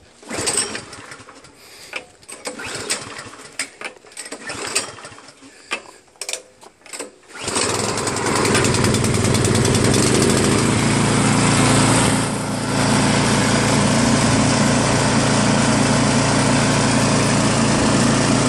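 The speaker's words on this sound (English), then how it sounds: "Full throttle, just pull it." A Craftsman snowblower engine, just repaired after a carburetor clogged with gummed ethanol fuel, catches after a few sputtering pulls and settles into a loud, steady full-throttle roar close by.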